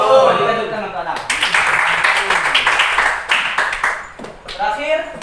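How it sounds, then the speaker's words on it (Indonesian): Students in a classroom break into a burst of clapping that lasts a few seconds, with a voice speaking just before it starts and again as it dies away. "Berikan tepuk tangan kepada Ana."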